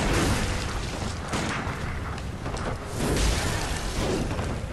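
Heavy weapon attacks in Bloodborne DLC gameplay: dense, roaring swings and crunching impacts with booms and whooshes, loud and continuous, with no pauses between blows.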